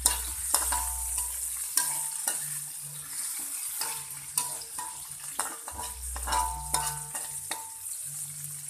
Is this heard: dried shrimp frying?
yes